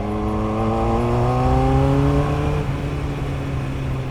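A 1988 Yamaha FZR1000 motorcycle engine, a five-valve-per-cylinder inline bike, revs up loud and close with rising harmonic whine, then eases back to a steady idle drone; no talking.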